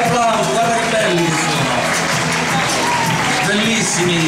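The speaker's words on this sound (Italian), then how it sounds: "facciamo un grande applauso" Audience applause and cheering for children on stage at an Italian fashion pageant, a dense, loud, continuous wash of clapping that runs throughout, with a voice talking over it.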